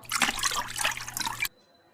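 Water pours from a tap over black beans set to soak, a loud steady splashing stream that cuts off abruptly, leaving a quiet hum.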